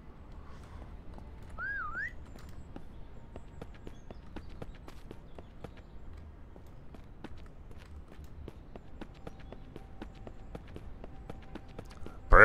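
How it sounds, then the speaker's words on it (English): A single short rising-and-falling whistle sounds early on from a player character in the zombie survival game SurrounDEAD, over a steady run of footsteps and clopping steps that continue to the end. "Let's go ahead and give these guys a whistle and see."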